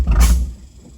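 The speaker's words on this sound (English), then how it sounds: "Oh, backfire." A Chevy square body truck's engine lets out a single loud backfire, a short close boom that quickly fades into a quiet tail.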